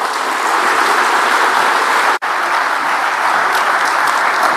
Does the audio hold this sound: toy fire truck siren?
no